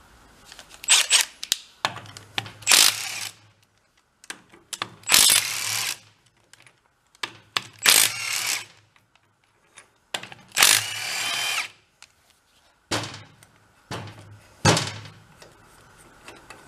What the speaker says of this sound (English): Let's get the head bolts out.